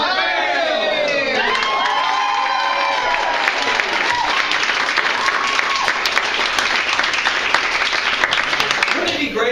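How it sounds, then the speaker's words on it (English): A theater audience at a student improv showcase bursts into loud, wild applause with cheering and whoops, sustained and dense throughout, mixed with scattered shouting voices. "And then we applaud you wildly."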